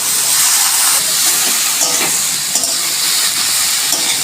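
Taro stolons frying with fried shrimp in a pan, giving a loud, steady, close sizzle and hiss that runs unbroken throughout with no talk.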